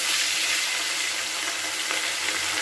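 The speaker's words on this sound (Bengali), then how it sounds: "এবার আমি লেজাটা আর মাথাটাকে ভেজে নিচ্ছি।" Rohu fish head and tail frying in hot oil in a home kitchen for a Bengali fish curry, giving a loud, steady, broadband sizzle that carries on unbroken with no voices.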